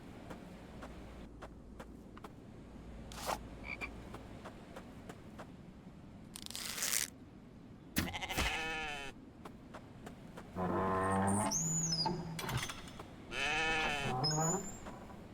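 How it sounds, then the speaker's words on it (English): Goats bleat at close range in several loud, wavering cries toward the end, after a quieter stretch of faint background noise and a few sharp knocks. "We got 3 goats"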